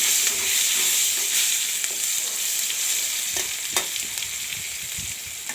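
Black cumin and chopped tomato fry in a hot pan with oil, a loud continuous bright sizzle that hisses steadily, broken by a few faint scrapes of a spatula stirring, with no voices.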